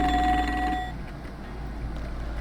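A telephone rings in the Blood: Fresh Supply video game, a short ring with steady tones that stops just before the one-second mark and is followed by quiet room noise.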